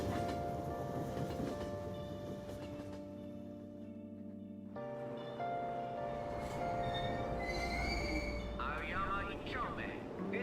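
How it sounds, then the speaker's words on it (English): A subway train in the Persona 5 video game, a rumbling carriage with a sustained mechanical drone and shifting tones, under a spoken onboard announcement. "Train doors are now closing. Please stand back."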